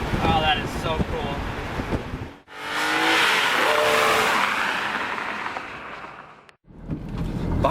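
A BMW Z4 M Roadster engine with an 8,000 RPM redline pulls up through the gears, partly masked by loud wind rush, with a voice talking before and after.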